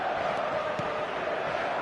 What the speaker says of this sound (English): there's a real sense that the momentum has shifted here, Peter, and the crowd are reacting to that now